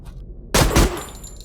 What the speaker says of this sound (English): The guns sound great.